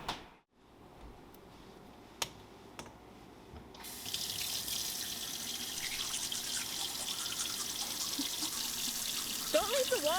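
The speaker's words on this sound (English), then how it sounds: "Don't leave the water running, it's wasteful." A tap runs steadily in an indoor sink, the flow starting after a few quiet seconds with light knocks and then continuing as a constant close rush of water until the end.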